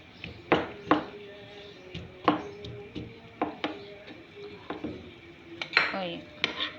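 A spoon stirs béchamel pasta in a pan, giving irregular clinks and scrapes of metal on cookware, with several sharp knocks over a quiet background.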